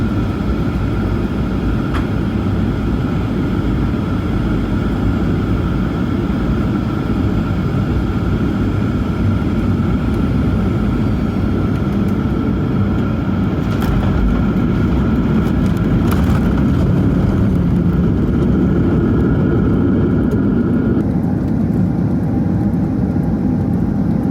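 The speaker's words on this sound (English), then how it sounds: "The landing was a pretty uneventful landing on runway 32 right." A Malaysia Airlines airliner rolls down runway 32 right at Kuala Lumpur, heard from inside the cabin as a loud, steady roar of engines and rumble for the whole stretch.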